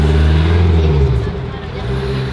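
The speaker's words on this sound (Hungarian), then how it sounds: "Hangosabb autójuk nem volt?" A loud car passes close by on a city street at night, its engine a heavy, rumbling drone that is strongest at first and eases slightly as it goes.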